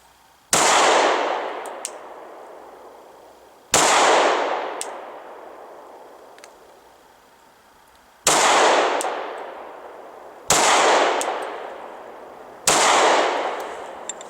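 A Glock 23 Gen 4 pistol fires five loud, sharp shots at a target, spaced a few seconds apart. Each crack is followed by a long, fading echo.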